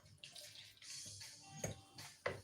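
Water poured into a jug in a kitchen while making cheese bread rolls, a soft close trickle with a couple of brief splashy peaks, faint overall.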